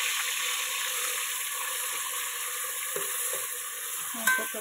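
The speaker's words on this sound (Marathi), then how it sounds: "त्या तेलामध्ये आता मी हा किसलेला कांदा टाकणार आहे आणि हा परतून घ्यायचं आहे जरासा" Grated onion sautés in hot oil in a pot while a crab masala cooks, giving a steady bright sizzle throughout with occasional scraping stirs near the end.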